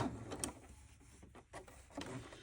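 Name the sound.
Elnita EC30 sewing machine sewing a straight stitch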